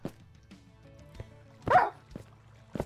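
A dog barks once in a video game about building arena walls in the Kingdom of Promethia, a short, fairly loud burst standing out over low game sounds and scattered soft knocks.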